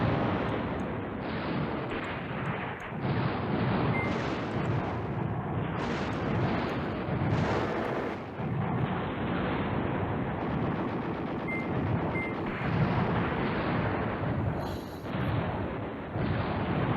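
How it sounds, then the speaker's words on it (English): Sustained artillery and gunfire in the wargame Command Ops 2, a dense, loud barrage of overlapping booms and crackling shots rolling continuously without pause; no talk. "Okay, so we need artillery."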